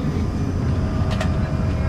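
Inside a very small passenger plane flying from Malabo to Douala, a steady broadband cabin drone fills the space, loud and constant, with a faint brief sound in the middle.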